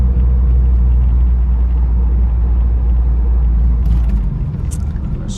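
A 1982 Honda Prelude's engine works hard at highway speed, a loud, steady low rumble heard from inside the car that eases slightly near the end, with no speech.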